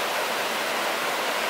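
Rapids on Huckleberry Creek rush steadily outdoors, a continuous, even hiss of churning water filling the whole moment with no pauses or voices.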